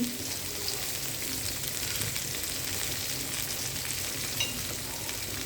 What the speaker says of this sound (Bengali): এখন আমি ভাজিটা দিব, যেটা লাল পাতাকপি।